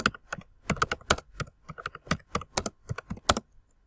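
Someone types a question on a computer keyboard, producing a quick, uneven run of close, crisp key clicks with brief pauses and no talking.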